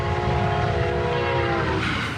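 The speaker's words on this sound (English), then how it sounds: "the sound of a passing train is being met with the hesitation by some" Brightline passenger train passing close on the Treasure Coast near Stuart, a loud steady rumble with a sustained horn blast that drops in pitch as it goes by, no voices.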